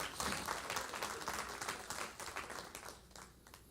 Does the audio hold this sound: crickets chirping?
no